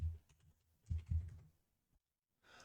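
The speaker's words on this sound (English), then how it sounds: "And I will type a password." A few soft, close clicks of a computer keyboard come as someone types a password. The quick keystrokes fall in a short cluster, then a pause, then a faint final patter.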